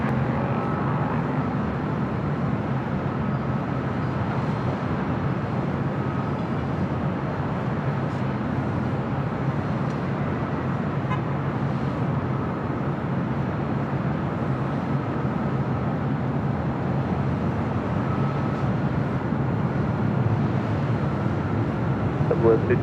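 A jet airliner lands on runway 24 Right at LAX, its steady, broad engine roar continuing at moderate volume throughout, with radio chatter in the background.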